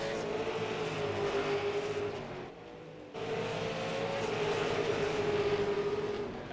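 Super Late Model race cars roaring around Thompson Speedway Motorsports Park, a loud continuous engine drone with a brief dip as cars pass, then rising again.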